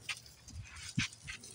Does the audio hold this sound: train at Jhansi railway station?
no